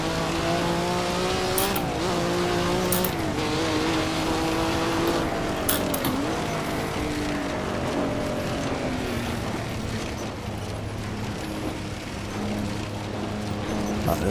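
A race car's engine in Assetto Corsa VR drones and shifts pitch steadily through acceleration and a dip under braking on a banked track, loud and continuous, with brief clicks along the way.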